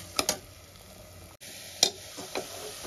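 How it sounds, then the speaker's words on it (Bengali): Spice paste with salt, coriander powder and chilli powder is stir-fried in a pan for pressure-cooker egg biryani, with a soft low sizzle broken by a few sharp spatula scrapes and clinks, fairly quiet and without speech. "এবার আমি মশলার মধ্যে বেশি পরিমাণ মতো নুন, ধনে পাউডার, লঙ্কা পাউডার এগুলো দিয়ে মশলাটা কষাতে হবে"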